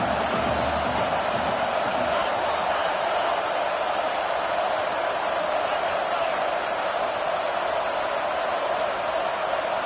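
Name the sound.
loud football stadium crowd noise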